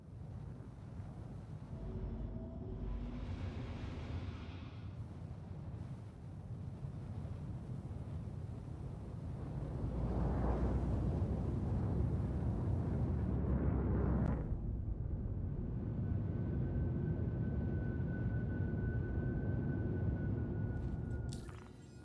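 Spaceship engines in the Trade Run video game roaring through a launch, a dense low rumble that swells louder midway and holds steady, with a thin high tone emerging near the end.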